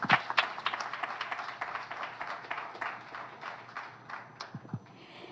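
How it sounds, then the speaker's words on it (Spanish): A church congregation claps in a dense, steady patter that slowly thins out, heard at moderate distance without voices. "Vamos a darle un fuerte aplauso al Señor."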